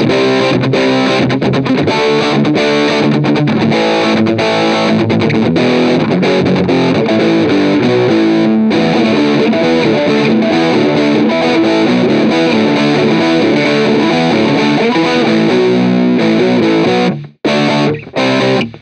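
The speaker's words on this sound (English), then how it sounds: "what this patch kind of gives you is that kind of older, scratchier, harsh distortion, not a nice round full one" An electric guitar plays through an Amplitube amp-simulator patch set for harsh, scratchy, old-school punk distortion. The playing is loud, dense and continuous, with brief cutoffs near the end.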